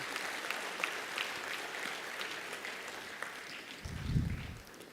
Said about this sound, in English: let us show our appreciation and gratitude with a resounding round of applause for